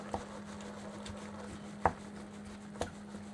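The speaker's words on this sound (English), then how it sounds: "while you're chopping the veggies that you're going to be putting in it" Vegetables chopped for samosa filling in a Ugandan street-snack kitchen: a few sparse knife knocks on a board over a steady background hum, spaced irregularly and fairly faint.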